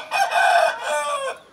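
A rooster crows once, close and loud, a single drawn-out call that rises and then trails off.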